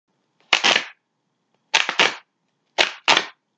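Serrated tiger claw knife slicing through material in three separate ragged cuts, each a short harsh rasp in two quick bursts, close and isolated with silence between.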